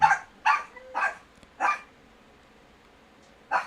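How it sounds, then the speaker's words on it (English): Several close barks from dogs in a home, four quick loud barks in a row, a pause of almost two seconds, then one more bark at the end, with no speech. "I don't know why my dogs are barking."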